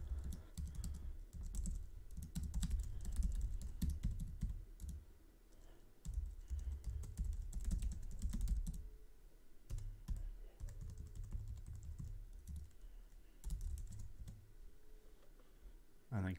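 Quiet, steady tapping on a computer keyboard while details are entered during a Windows Server 2022 software setup, keystrokes clustered in irregular bursts with short pauses.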